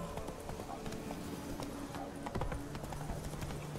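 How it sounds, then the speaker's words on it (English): In The Witcher 3, the horse Roach gallops with steady rhythmic hoofbeats under a dense wash of game ambience and music, with speech over the top. "Come on, Roach"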